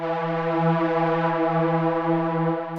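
A sustained, bright Serum synthesizer lead, a WHITEARMOR-style Diamonds preset, holds one steady buzzy note with rich harmonics, played alone without any voices.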